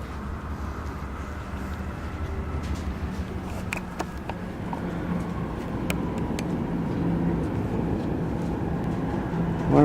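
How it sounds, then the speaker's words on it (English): A train rumbles past over a nearby bridge in Afton Canyon, a continuous low roar with scattered metallic clicks and clanks, growing louder toward the end. "And the actual train is coming by right now."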